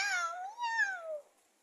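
A single drawn-out meow, high and wavering, voiced by a child imitating a cat; quiet and alone.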